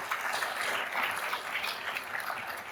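A live-stream conference audience gives a sustained round of applause, dense overlapping clapping that holds at an even, moderate level throughout.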